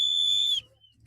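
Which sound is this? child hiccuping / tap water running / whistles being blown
whistles being blown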